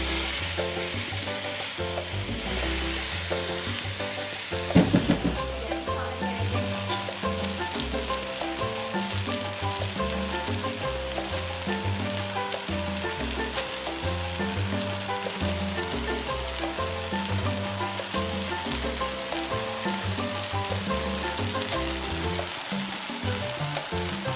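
Chicken chow mein frying in a pan, with a loud, steady sizzle and stirring scrapes throughout, close up, and a brief clatter early on with no talking.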